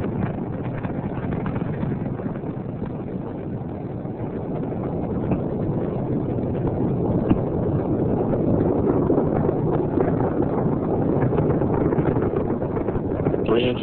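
Space Shuttle Columbia's engines roar through a launch, a dense, steady low rumble that swells slightly over time and is heard as a broadcast feed, with no speech over it.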